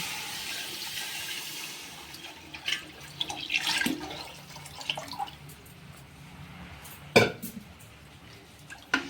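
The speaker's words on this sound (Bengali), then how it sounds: "এবার আমি জল দিয়ে নিচ্ছি" Water poured into a pot of khichuri in a home kitchen, a steady splashing flow with a few louder clunks and drips, close by and with no talking.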